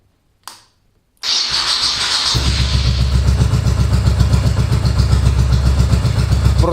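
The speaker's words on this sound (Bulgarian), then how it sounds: "Да видим какво ще се получи, ако запалим двигателя." A motorcycle engine cranks with a short starter whir, then catches and settles into a loud, steady, throbbing idle close by.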